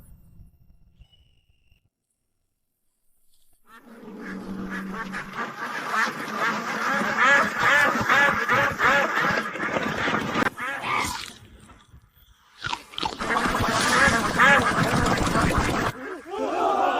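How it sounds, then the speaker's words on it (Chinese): A large flock of about 20,000 Jiangnan sheldrake ducks on a farm quacks in a dense, continuous chorus close by, starting after a quiet moment and briefly dipping before swelling again. "把咱们前阵子在侯府农庄孵化的2万只江南麻鸭全放出来"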